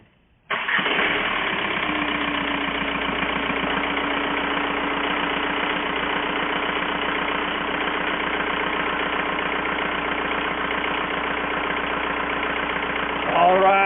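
A Volkswagen Jetta engine cranks and catches almost at once, then settles into a steady, loud idle that runs for over ten seconds, with a slight rise in revs at the very end.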